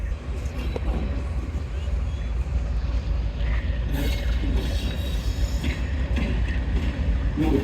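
A detached AG30 locomotive of the Allama Iqbal Express rumbles steadily at a station in fog, a loud continuous low drone with faint hiss and clanks throughout.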